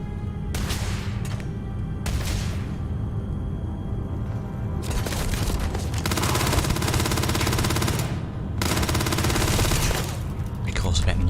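Repeated loud bursts of rapid gunfire from a weapon in Starfield, several long volleys separated by brief pauses, close and punchy.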